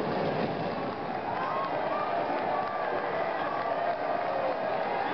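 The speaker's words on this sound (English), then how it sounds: "listen to the applause for Danilo Di Luca" Steady applause and cheering from roadside crowds greeting cyclist Danilo Di Luca at the Giro d'Italia final stage finish, a continuous even roar with a commentator talking over it.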